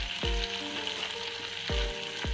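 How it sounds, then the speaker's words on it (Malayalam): Shallots, four dried red chillies and three sprigs of curry leaves sauté for Kerala-style sambar, hissing in a steady close sizzle broken by a few sharp stirring scrapes against the pan. "ഇതെല്ലാം ചേർത്ത് നമുക്കൊന്ന് മിക്സ് ചെയ്ത് കൊടുക്കാം. ജസ്റ്റ് വഴറ്റി കൊടുക്കാം."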